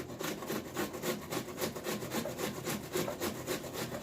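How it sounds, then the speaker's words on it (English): An onion is grated by hand for vegan, gluten-free potato pancakes, making a steady rhythmic rasping and scraping of repeated strokes, close and fairly loud with no talking. "now we're going to take our onion and grate our onion as well"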